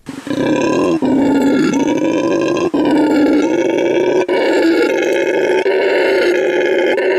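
A metal-styled monkey lets out loud, continuous roaring calls over heavy distorted power chords, the wailing cries sustained across the whole stretch with brief breaks between phrases.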